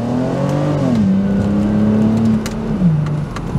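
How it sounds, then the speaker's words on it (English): A BMW Z4 with a ZF six-speed gearbox accelerates in sport mode, its engine tone rising and then dropping sharply at two hard gear shifts, loud and close throughout. "It has gear shock, it shifts hard into the next gear."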